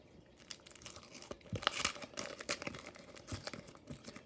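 A foil-type wrapper on a 1989 Donruss baseball card pack crinkles and tears open up close, quiet rustles building into sharper rips and crackles in uneven bursts.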